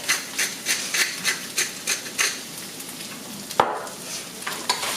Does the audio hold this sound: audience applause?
no